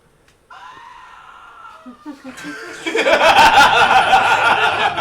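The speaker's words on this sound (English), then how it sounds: "Have you heard a man scream?" A man screams in the horror video game Alone in the Dark: The New Nightmare, a rising, strained cry that swells into a loud, harsh, sustained shriek.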